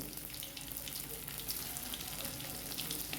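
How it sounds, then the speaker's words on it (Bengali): Boiled, cut potatoes frying in hot oil in a home kitchen, giving a steady, close, even sizzle that holds level throughout with no talking. "এর মধ্যে আমি যে আলুটা কেটে রেখেছিলাম সেই আলুটা একটুখানি ভেজে উঠিয়ে নেব।"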